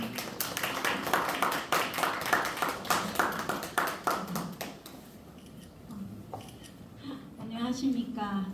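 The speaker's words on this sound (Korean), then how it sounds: "박수 한번 부탁드리겠습니다" Audience at a teachers' winter seminar claps for about five seconds, a fairly small group giving distinct rhythmic claps that stop abruptly, followed by a quieter room and a speaker beginning to talk.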